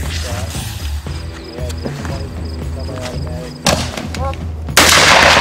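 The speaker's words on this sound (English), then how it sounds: "she'll shoot at this thing" Gunfire at a target during family shooting practice, with sharp loud reports near the end, one around the middle of the clip and a bigger blast at the close, with people talking and background noise in between.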